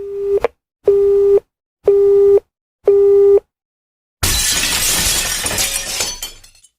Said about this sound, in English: threw it across the room, shattering it against the wall.